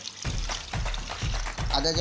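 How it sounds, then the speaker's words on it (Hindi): Water poured from a jug into a pot of beef nali biryani korma, a steady close splashing pour in bursts under continuous talking. "लेकिन अब इसमें पानी डलेगा आधा जग"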